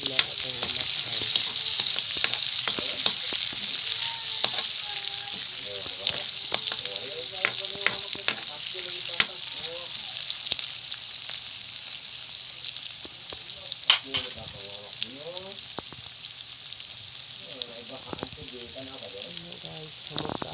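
Garlic or spices sizzle steadily in hot frying oil while squash, eggplant and string beans are being prepared, a continuous loud frying hiss with occasional stirring clinks and some talk over it.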